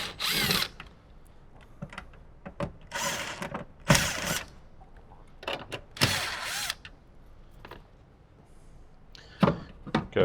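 A power driver backs out 10 mm bolts holding the factory speaker in a 2025+ Toyota 4Runner, firing in several short, close whirring bursts with quiet gaps between them. No one speaks.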